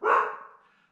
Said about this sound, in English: barking is forbidden.